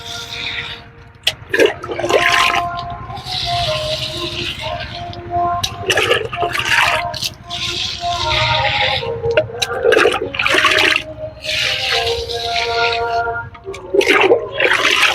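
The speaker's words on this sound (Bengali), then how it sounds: "দেখুন কালো জল বেরোচ্ছে যতক্ষণ না সাদা জল বেরোচ্ছে ততক্ষণ জল দিয়ে যাবেন" Water gushes and splashes steadily out of a rose plant's pot as it is flooded with water, the pouring and draining continuing close by under a person talking throughout.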